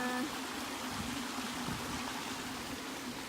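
Steady broadband rush of a stream of water flowing past the remains of an abandoned 1700s mill, close and continuous with no other sounds.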